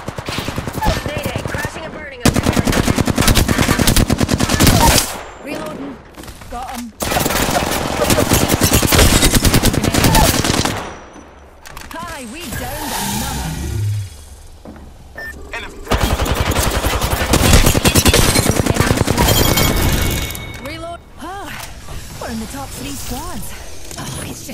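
Dense gunfire from the video game Horizon: loud bursts of rapid automatic fire and single shots that repeat in long volleys, with short pauses and mechanical clatter between them and game voices calling out in places.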